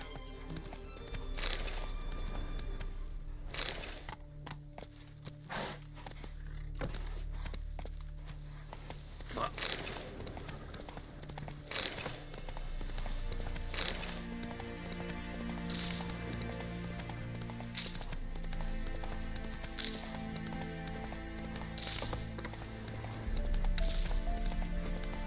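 Hoofbeats of the horse Roach galloping in the video game The Witcher 3, a rapid stream of thuds running through the whole stretch beneath game music and ambience, with occasional talk.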